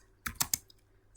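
A short burst of three quick keystrokes on a computer keyboard while entering a command in Lingo software, close and crisp, then near silence with a faint tap.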